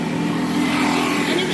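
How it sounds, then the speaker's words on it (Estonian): Scooters drive past on a road on Koh Phangan, Thailand, a brief steady engine whine with a mid-pitched drone, close and fairly loud. "rollerid panevad mööda."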